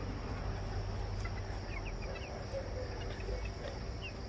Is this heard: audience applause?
no